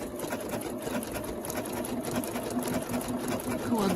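Close sewing machine stitching fabric for a quilted cover, a rapid, even mechanical whir and chatter running continuously at moderate volume.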